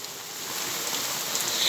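Rain falls steadily during a moderate late-August thunderstorm in Montady, a dense, even hiss of drops on the ground heard close and uninterrupted.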